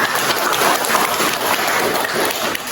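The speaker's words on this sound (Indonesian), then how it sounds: "Sekali lagi kita beri tepuk tangan." Audience applause for a student group that has just performed in a school physical-education lesson, loud continuous clapping, close and dense, lasting the whole moment without speech.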